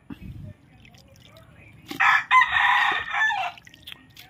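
A rooster crows loudly and close by for a couple of seconds, with a few quieter clucks and rustles around it.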